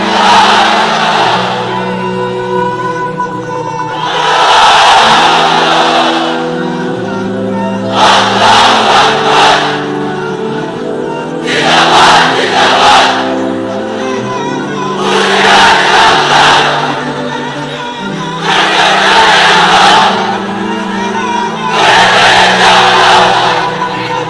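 A large crowd at a religious gathering under a pandal roars a takbir chant in unison, with loud massed shouts repeating at regular intervals of a few seconds between quieter lulls.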